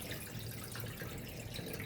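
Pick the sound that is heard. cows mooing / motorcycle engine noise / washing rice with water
washing rice with water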